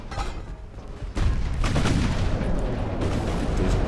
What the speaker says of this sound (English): Those devastating shots.